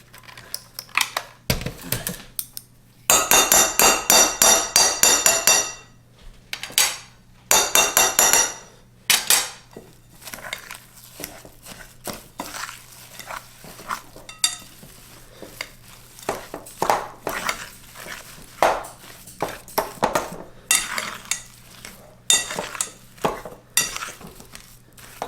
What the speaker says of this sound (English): So we're going to mix all this in.